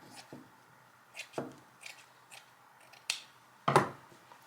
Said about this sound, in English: So I'm probably going to cut this edge off right here.